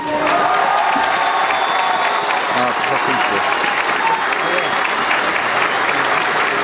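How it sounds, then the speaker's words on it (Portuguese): Strong applause for President Dilma Rousseff as she arrives at a public event, a loud sustained crowd clapping with some cheering, with a voice speaking over it. "foi recebida sob forte aplauso"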